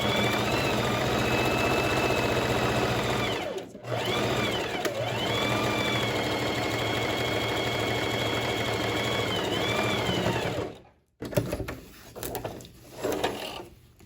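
Foot-pedal sewing machine stitching buttonholes on a lined tailored vest, a steady loud mechanical whir running in long bursts, broken by brief pauses and a few clicks near the end.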